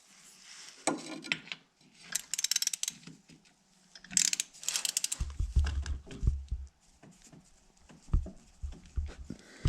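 A wrench works bolts on a Honda Recon ATV, giving irregular ratcheting clicks, metallic rubs and scrapes in bursts over several seconds. The sound is close and moderately loud, with a low rumble partway through and no speech.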